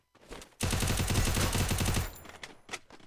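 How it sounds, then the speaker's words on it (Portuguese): A rapid automatic burst of gunfire in the Free Fire video game, about a second and a half of loud rattling shots, followed by a few scattered single bangs. "Ah, não. Tá um tiro."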